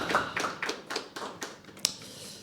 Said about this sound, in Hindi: एक बार फिर से जोरदार तालियां जाए यार